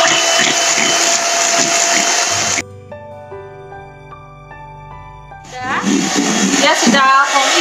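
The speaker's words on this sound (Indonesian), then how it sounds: "Nah, saya akan kocok putih telurnya" An electric mixer whisks egg whites with cream of tartar until foamy for a chocolate potato sponge cake, a loud steady whir that cuts out for a few seconds before starting again.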